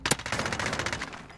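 Rapid automatic gunfire in Valorant, a quick burst of closely spaced shots lasting just over a second, loud and close with no voices over it.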